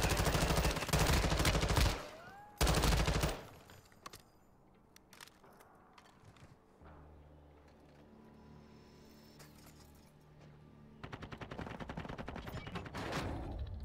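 Video game gunfire comes in loud rapid bursts at the start, then quieter scattered shots and mechanical clicks, before another sustained burst of automatic fire closes it out.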